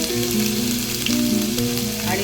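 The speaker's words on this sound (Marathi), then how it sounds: "आपल्याला थोडे पनीर आहे ते थोडे फ्राय करून घ्यायचे" Paneer fries in a pan for a Malvani-style methi paneer, giving a loud, continuous crackling sizzle close by, with steady tonal sounds running underneath and no talking.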